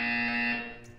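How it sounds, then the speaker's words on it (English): A steady electronic buzzer in Portal 2 sounds alone at close range as one sustained harsh tone, fading toward the end. "When you hear the buzzer, stare at the art."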